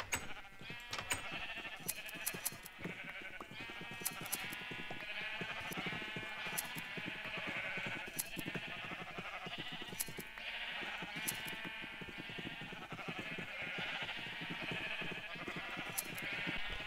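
Sheep in Minecraft bleat over and over while being sheared with enchanted shears, a dense run of game bleats with sharp clicks, loud and alone with no talk.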